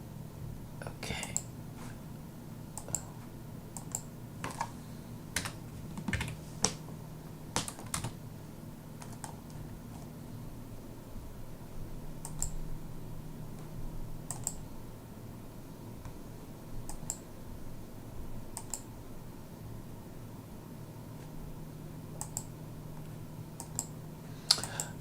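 Computer keyboard typing and mouse clicks tap away in irregular bursts over a low hum, close and fairly quiet, with a few soft murmured words underneath.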